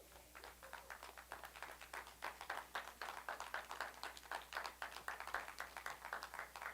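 Church congregation clapping in praise, a fairly even beat of sharp hand claps that steadies and grows a little louder after a few seconds, heard without talk over a low hum.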